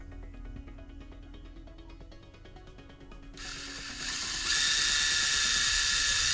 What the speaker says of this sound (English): I want to go ahead and drill 90 degrees to this